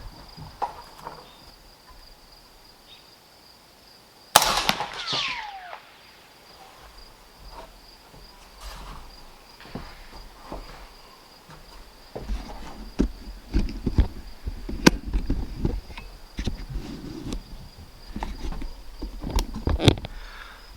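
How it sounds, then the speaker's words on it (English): A subsonic 300 Blackout rifle firing a 200-grain open-tip round fires a single sharp, loud shot into a watermelon outdoors, with a quick decaying ring after it; crickets chirp steadily in the background, and scattered knocks and rustles follow. "You could, you know, hear the zing of the bullet"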